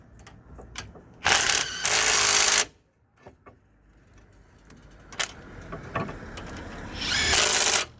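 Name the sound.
impact driver driving in brake caliper clamp bolt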